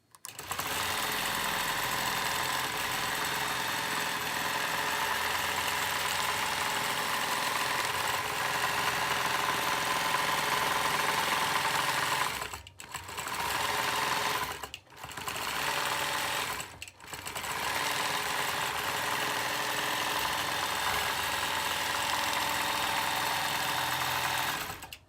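A computerized quilting machine stitching a digital quilting design runs as a fast, steady mechanical whir with a few brief pauses in the middle, close and continuous with no talking.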